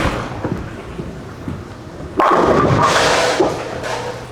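A Roto Grip TNT Infused bowling ball crashes into the pins in one loud, sudden impact, and the scattering pins clatter on for about two seconds after it.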